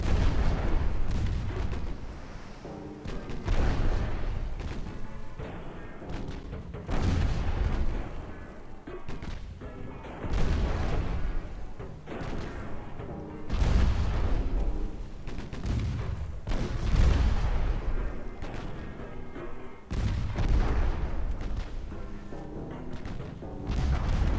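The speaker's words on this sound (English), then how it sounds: "We can shoot those torpedoes off, we've got them." Naval guns and torpedoes firing in a naval war strategy video game, repeated heavy booming blasts every few seconds with rumbling decay and layered gunfire between them.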